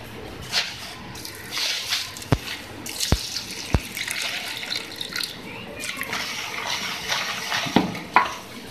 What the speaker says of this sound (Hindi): अब सबसे पहले हम क्या करेंगे कि चीनी के अंदर हम पानी ऐड करेंगे।